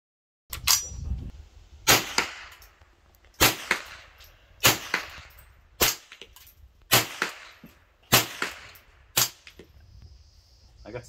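Ruger Takedown rifle firing subsonic ammunition, seven sharp, fairly quiet cracks spaced a second or so apart, each followed by a brief metallic clatter, near and alone.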